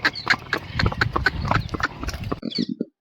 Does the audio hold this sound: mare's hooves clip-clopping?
yes